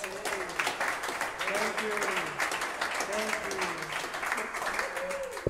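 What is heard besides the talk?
audience applause at live concert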